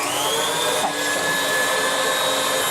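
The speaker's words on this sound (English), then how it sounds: "It's still running very quickly off of the whisk, so I definitely want to whisk it longer." An electric whisk whipping meringue for pavlova gives off a loud, steady motor whine and whir, close up, with a brief dip in tone partway through and no talking.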